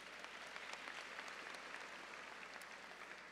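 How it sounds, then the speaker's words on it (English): A graduation audience at Cambridge College's 2010 commencement claps steadily in sustained applause, faint and distant in a large hall, with no voices over it. "you can give him a round of applause."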